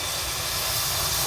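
Steady, loud hissing steam from a Vanderbilt racer steam locomotive being steamed up, a continuous broadband rush with no breaks.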